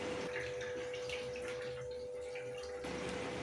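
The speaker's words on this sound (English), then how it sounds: "And there our water is coming in for rinsing." Water flowing into a 10kg washing machine for a rinse while washing a queen size duvet, a soft steady rush and trickle with a faint constant hum.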